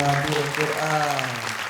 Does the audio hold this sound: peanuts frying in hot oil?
no